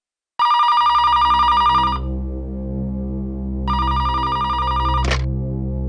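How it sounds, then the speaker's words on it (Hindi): An electronic office telephone rings in the CID bureau: a loud trilling burst, a pause with low hum, then a second ring that cuts off with a soft click. "फोन उठाना है प्लीज।"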